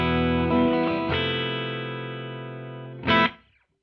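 An electric guitar played through a Meris MercuryX reverb pedal: a few distorted chords ring out and decay with a faint reverb tail, then a final short strum cuts off sharply into silence.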